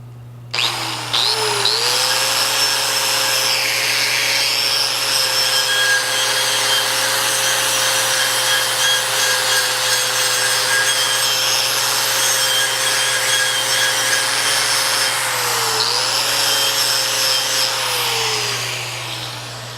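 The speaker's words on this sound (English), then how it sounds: "And we're going to try let's try the wire wheel first." A power wire wheel strips crusty paint from a Sidney lathe, grinding steadily for most of the clip, a loud continuous abrasive roar with a high whine, spinning up at the start and easing near the end.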